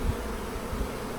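Bees buzz steadily around a backyard Flow Hive, a continuous low drone of many insects close by with no voices.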